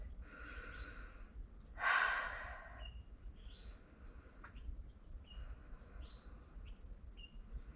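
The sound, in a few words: deep cleansing breath in a yoga session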